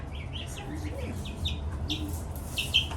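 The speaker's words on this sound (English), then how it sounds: "look at one of those little chicks" Little chicks and goslings in a brooder peeping with high, thin chirps scattered across a few seconds, fairly faint over a low background hum.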